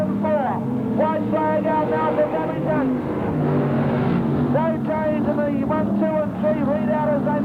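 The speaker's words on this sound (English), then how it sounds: "Sprint car back markers lining up the circuit, running out of turn 4." Sprint cars from the 1981/82 season race around Parramatta City Raceway speedway, a loud continuous engine roar with rising and falling pitch as cars run out of a turn, while a commentator talks over it throughout.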